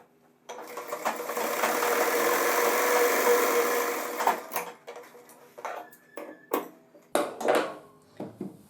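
A sewing machine runs a continuous stitching burst while a pant fly is sewn, then breaks into short stop-start runs and clicks as the fabric is adjusted; close and moderately loud, with no talking.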